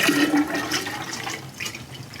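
Water pours into bourbon to proof it, a soft continuous bubbling and splashing stream at moderate distance that fades slightly toward the end, with no voices.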